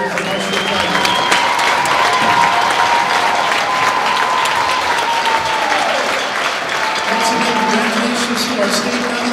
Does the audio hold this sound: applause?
yes